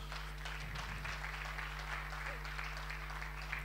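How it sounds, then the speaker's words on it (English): Audience applause at a sports awards ceremony, faint and distant clapping over a steady electrical hum, with some background talk. "Give yourselves another hand of applause."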